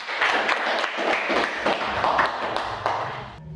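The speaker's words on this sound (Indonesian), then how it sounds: "Beri tepuk tangan dong buat Sofi." Students in a classroom applaud a classmate, a dense, fairly close patter of clapping hands lasting the whole few seconds before cutting off.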